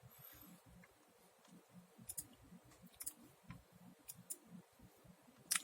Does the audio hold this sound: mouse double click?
yes